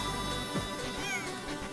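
A cat meows in a video game where the player, in cat form, knocks items off a shelf. A single short meow rises over a steady bed of game music and ambience, fairly close and clear.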